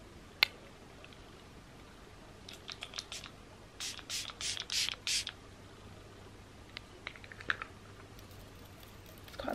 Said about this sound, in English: It's quite a powerful spray.